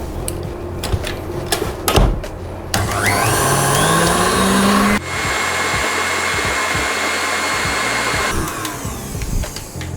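An electric hand mixer whisks tiramisu cream in a bowl with a loud, steady motor whine whose pitch shifts as the beaters move, running without a break throughout.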